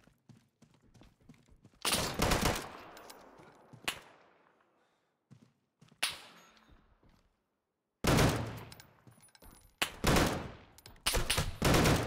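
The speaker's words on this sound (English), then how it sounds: "who is shooting me behind?" Bursts of video game gunfire from behind, with rapid volleys of loud, sharp shots coming in several separate flurries and quiet gaps between them.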